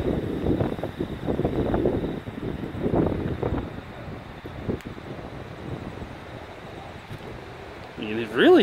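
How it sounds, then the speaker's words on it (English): Strong gusting wind ahead of an approaching storm roars and buffets the microphone in a low, rumbling wash that swells and eases, growing harsh again near the end. "It's really getting windy now."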